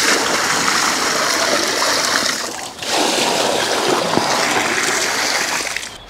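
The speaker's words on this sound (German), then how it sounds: "Und obendrauf dann wieder frisches Wasser." Fresh water poured over homemade fertilizer plates in a container, a loud continuous splashing gush that briefly dips mid-pour before resuming strongly until the end.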